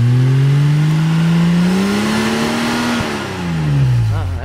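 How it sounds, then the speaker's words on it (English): A 1968 Jaguar XKE 2+2 E-type engine revs loudly and close by, pitch climbing steadily, then dropping back as the throttle eases off. "let's hear it rev up a little"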